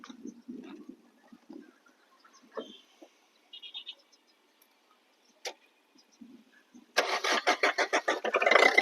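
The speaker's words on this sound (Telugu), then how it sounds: "కార్ అయితే సింగిల్ స్టార్ట్లో వెళ్ళిపోయిందన్న. డీజిల్ వర్షన్ కార్ వచ్చేసి." A 2010 Maruti Swift LDI diesel car cranks over after some quiet clicks and small noises, then its engine catches on a single start and settles into a loud, pulsing idle close by.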